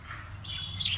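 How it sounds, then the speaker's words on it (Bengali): Small birds chirp briefly in a balcony garden on a winter day, with a short high, bright call rising over steady low background hum. "পাখিদের কিচিরমিচির ডাক"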